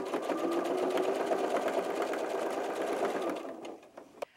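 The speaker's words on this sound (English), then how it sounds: "we are going to sew from one corner to the other" A sewing machine runs steadily while topstitching the binding on an 18-inch doll's tank top, humming with fast even stitch clicks for about three seconds before it slows and stops, with a faint click at the end.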